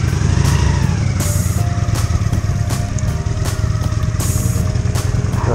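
A Honda Shadow VT400 motorcycle engine rumbles loud and close as it rides off, a steady low throb broken by repeated sharp bursts and clatters of wind or road noise; no talk.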